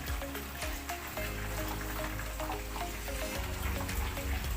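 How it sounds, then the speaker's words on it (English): Water is poured into Buffalo wing sauce in a hot pan, giving a steady close splashing, bubbling wash over a low background hum. "Then I'll put a bit of water in there."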